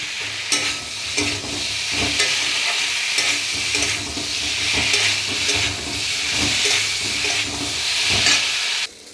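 Vegetables stir-fried with ginger paste and spices in a pan sizzle loudly and steadily up close, with repeated scraping strokes of a spatula throughout, no voices.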